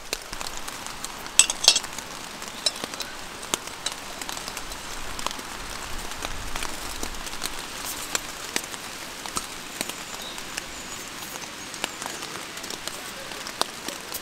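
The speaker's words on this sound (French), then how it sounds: "Il pleuviote un petit peu, tranquillement." Light rain pattering steadily on surfaces at a mountain campsite, a soft continuous patter with scattered closer drops, calm and fairly faint throughout.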